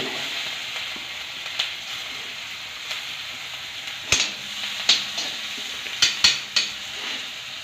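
Shallots fry in hot oil in a pan for an anchovy curry, giving a continuous crackling sizzle with repeated clinks and scrapes of a stirring utensil against the metal.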